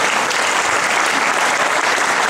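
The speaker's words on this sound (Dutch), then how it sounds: "ik wil daar gewoon even een applaus voor, dames en heren" An audience at a 2017 summer concert claps in a dense, steady wash of applause, loud and continuous throughout, with no speech.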